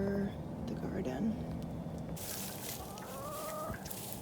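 Chickens cluck and a rooster crows in a garden, with bird calls scattered through the clip and a voice heard over them.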